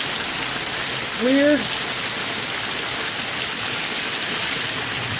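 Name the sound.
heavy rain during severe thunderstorm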